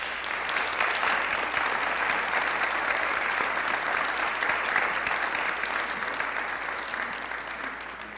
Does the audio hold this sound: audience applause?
yes